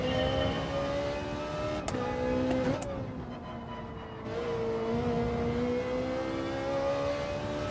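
Ferrari engine in Gran Turismo 7 revving and pulling hard, a loud continuous drone that climbs in pitch through the gears, with brief shift breaks and a short dip before rising again.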